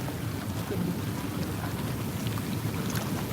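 Steady rain falls around an outdoor jacuzzi, a dense even hiss of drops pattering on water and surfaces, continuous and fairly close with no talking.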